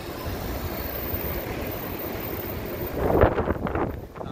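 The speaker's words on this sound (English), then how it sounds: "Getting very windy" Wind sweeping along a downtown Chicago street in Streeterville ahead of a storm, a steady broad rushing roar that swells louder near the end, no one talking.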